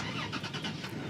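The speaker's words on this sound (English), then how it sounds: "right, the truck's gonna start" A Toyota Tacoma pickup truck's engine turning over and catching, a brief close rumble of cranking with a rhythmic pulsing texture inside the cab.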